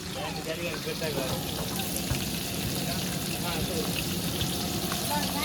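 Chopped onions sizzle and crackle steadily in a hot pan for biryani, a dense continuous frying hiss with occasional stirring by a large ladle, while people talk nearby.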